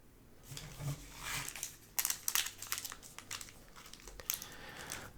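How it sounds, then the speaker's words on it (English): A Butterfinger candy bar wrapper crinkles and tears open up close, with soft rustling that builds into sharper bursts of crackling plastic, then settles into lighter intermittent crinkles. "Packaging opens relatively easily"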